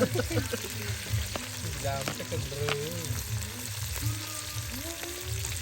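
Country chicken curry frying in a pan at a Sankranti festival gathering, a steady close sizzle with stirring scrapes, with voices talking over it.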